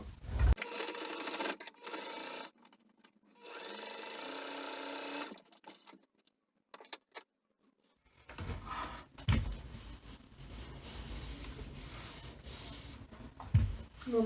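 A sewing machine stitches fabric and bias trim for a plastic-coated zip pouch, with backstitching, heard as quiet, close whirring bursts that start and stop, including short runs and a longer steady stretch.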